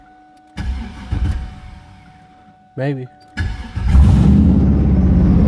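A race car engine cranks in short bursts, catches and starts, then settles into a loud, rough running rumble; a person speaks briefly near the start.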